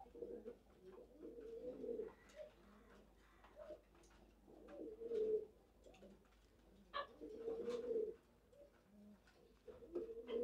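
Racing pigeons with pedigrees coo softly in a loft, low repeated throaty calls in short bursts throughout, fairly faint and close, with light rustling between them.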